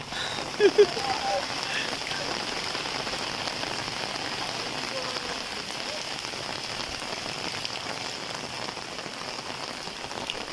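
Steady rain pours onto a village market street in Bangladesh, a dense continuous patter and hiss that stays even and fairly close throughout, with a brief voice near the start.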